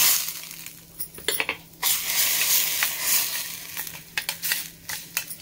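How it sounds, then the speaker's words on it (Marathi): Chutney being stirred and mixed with a spoon, with scraping and light clattering strokes coming in short irregular bursts, close by and moderately loud with no talking. "छान असं मिक्स करून घ्यायचं."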